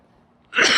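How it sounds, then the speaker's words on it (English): A single sharp sneeze bursts out loudly after a moment of near silence. "I'm gonna sneeze."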